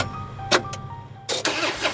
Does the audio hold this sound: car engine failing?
yes